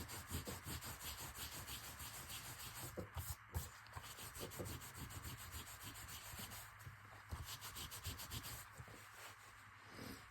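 Steady, close rubbing of a fingertip over paper to clear away glue during a paper craft project, a continuous dry scuffing with small rhythmic strokes and no talking.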